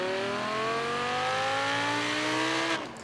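The 5.2 litre naturally aspirated V10 of a Lamborghini Huracan in the video game Forza Horizon 3 revs up loudly in a rising, high-pitched wail, then abruptly cuts off as the throttle lifts.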